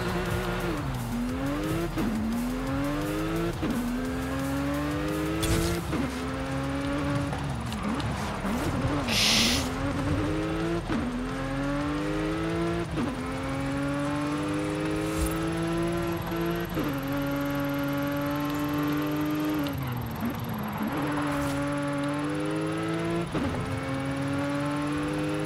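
A car drives in the open-world racing game Forza Horizon 5, its engine revving up and down through repeated gear shifts, loud and close, with tires squealing in places and occasional faint talk beneath.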